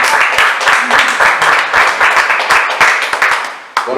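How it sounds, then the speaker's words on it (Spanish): A church congregation at a Sunday sermon bursts into loud, close applause, many hands clapping vigorously with a slightly rhythmic pulse before it cuts off near the end. "Dale un aplauso, Señor."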